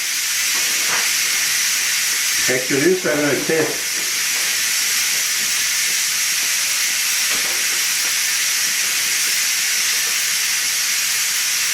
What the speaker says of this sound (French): on prend un instrument pour enlever la vapeur